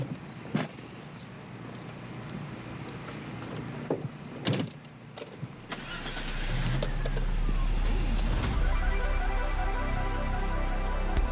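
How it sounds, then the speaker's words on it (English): Keys jangle in short bursts as someone climbs into a car, with door and seat handling noises, then the engine starts and settles into a steady low running rumble. "I'm about to get in the car"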